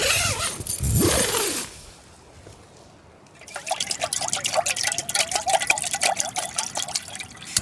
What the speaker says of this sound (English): it sounds like this rain is kind of coming and going